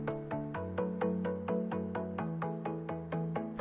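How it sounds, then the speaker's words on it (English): A crunchy, gritty synthesizer riff repeats in a steady rhythm, its notes harsh and distorted by a bit-crushing distortion unit, giving a lo-fi digital edge. "As far as what's giving it that bit crushy sound, is this distortion unit."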